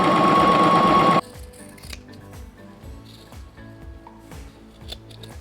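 A sewing machine stitches across a lace scrunchie for about a second, loud and close, then stops, leaving quiet handling taps and rustles.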